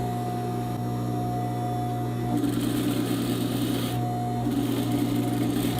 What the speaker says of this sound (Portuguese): Inicio com retrocesso e vou costurando bem ali naquela ponta.